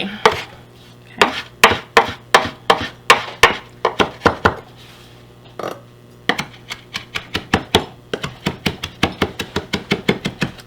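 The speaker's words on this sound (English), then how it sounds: "I want to chop them both up" A knife chops fresh mint and herbs on a cutting board in quick, close, sharp knocks, first in uneven bursts and then in a steady rapid run, with no talking.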